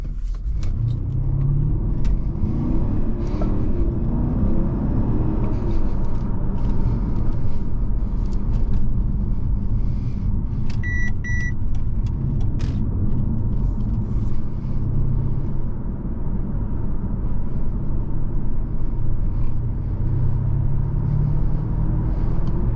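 A Mercedes CL500 with a 4.7 V8 pulls away from a traffic light, its engine a loud, steady rumble that stays strong throughout. A short electronic beep cuts in briefly partway through.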